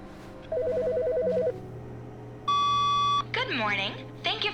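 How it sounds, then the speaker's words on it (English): A telephone rings in the video game The Stanley Parable, a loud, clear run of electronic ringing tones alternating with beeps, heard alongside game sounds and over a speaking voice. "I hear the phone."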